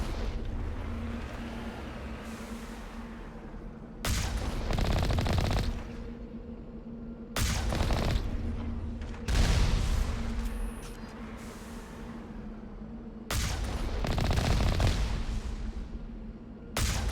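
Turrets fire in bursts in Mass Effect, long loud stretches of rapid gunfire broken by quieter gaps with a steady low hum underneath.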